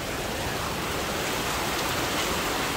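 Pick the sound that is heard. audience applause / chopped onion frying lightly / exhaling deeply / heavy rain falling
heavy rain falling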